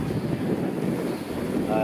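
Strong wind on a dike roars and buffets the microphone in a continuous, loud, rumbling rush with no clear gaps.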